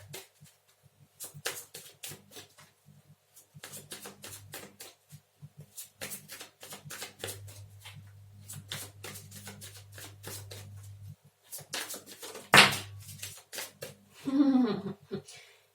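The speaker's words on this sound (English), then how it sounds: "I was shuffling thinking like" Soft, rapid riffling of tarot cards being shuffled in repeated bursts, with quiet speech-like sounds and a low hum in between.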